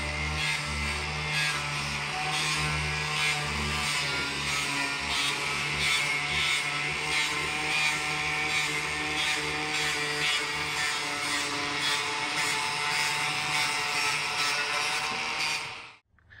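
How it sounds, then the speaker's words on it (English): An angle grinder cutting along a metal seam on a rabbit hutch gives a loud, continuous high whine with a steady hum beneath, running unbroken until it stops abruptly at the end. "So what I got is just an angle grinder, and I'm going to come right along this seam and just cut that section right off"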